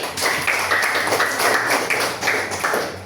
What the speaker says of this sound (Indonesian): Tepuk tangan untuk Tari.